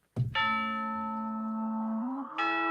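A doorbell sound effect played on a livestream, giving a bright ringing chime that sustains, dips slightly in pitch, then rings again as a second tone, with no talking over it.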